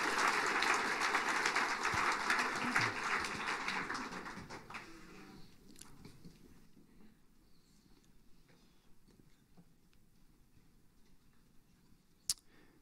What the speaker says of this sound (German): Gebt doch am Godi einen kurzen Applaus.